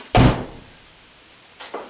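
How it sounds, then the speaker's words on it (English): A door slams shut with one loud, close thud, followed moments later by a fainter knock as it settles. "the door just slammed shut."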